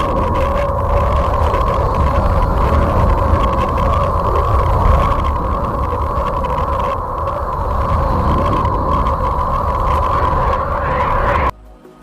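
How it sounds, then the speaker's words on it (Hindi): A NASA space recording attributed to the planet Uranus, heard as a dense, steady eerie drone with sustained tonal hums over a rumbling low wash. It stays loud and unbroken for the whole stretch, then cuts off abruptly near the end. "नासा ने इस सियारे की सतह से आने वाली आवाज़ भी रिकॉर्ड की है"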